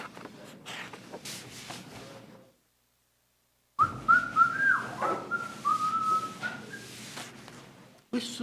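A person whistles a tune while working during a county board of adjustment meeting, clear melodic whistling after a brief silence, with shuffling and background noise.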